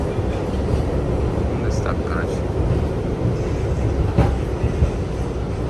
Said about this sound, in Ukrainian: Ось таке метро.